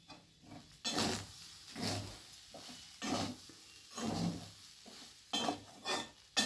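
A spatula stirs egg fried rice with ghee in a pan, making repeated scraping and clattering strokes over a soft sizzle, close by and with no talk.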